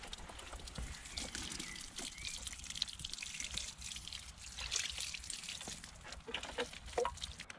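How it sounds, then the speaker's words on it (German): A cucumber plant is watered in a small greenhouse, with water trickling and dripping onto soil in soft, uneven splashes close by for several seconds. "Und jetzt gieße ich die Gurke."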